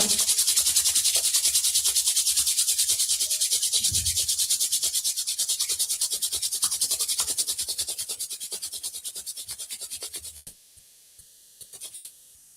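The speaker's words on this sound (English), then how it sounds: "we're going to use our hands and we're going to rub them together, creating some friction and some heat" Bare hands rubbed briskly together to create friction and warmth, a steady close rasping swish lasting about ten seconds, gradually softening before stopping, with no talk.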